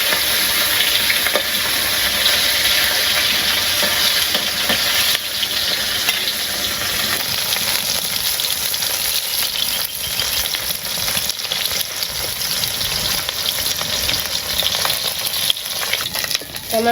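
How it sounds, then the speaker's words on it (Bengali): Fish frying in a pan hisses and spatters loudly and continuously, a dense crackling sizzle that holds steady throughout without pause. "আমার মাছটি ভাজা হয়ে গেছে, আমি মাছটি নামিয়ে নিই।"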